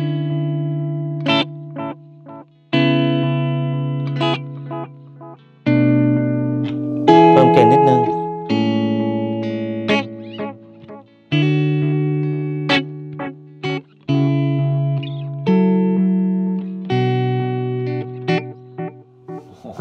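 Electric guitar played through a NUX Mighty Lite BT portable amp on a clean setting with moderate reverb and delay, ringing chords strummed in a steady repeating pattern with echoing tails, loud and alone.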